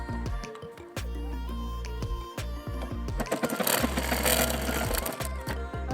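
A sewing machine stitches blouse fabric along its edges, running in fast continuous bursts with brief pauses between runs, loud and close, with no talking.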